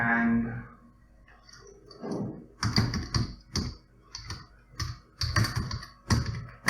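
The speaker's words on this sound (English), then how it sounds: "type Stanford Moz." Close, fairly loud computer keyboard typing in quick irregular bursts of clicky keystrokes, preceded by a brief hum, with no voices.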